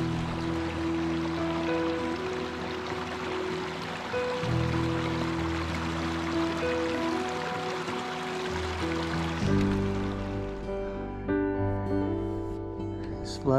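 A small mountain creek above the tree line in Tasmania's Mount Field National Park runs with a steady, close broadband rush and trickle, continuous throughout with a faint low hum underneath.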